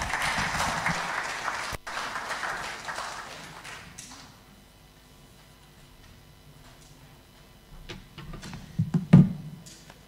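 An audience at a regional State of the Region address claps in a dense round of applause for about four seconds, which then dies away into quiet room tone with a few faint taps.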